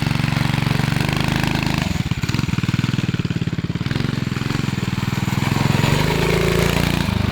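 A 1970 Fox Condor mini bike rides down the road, its small single-cylinder engine chugging with a steady, rapid put-put rhythm, close and continuous, swelling slightly as it picks up speed.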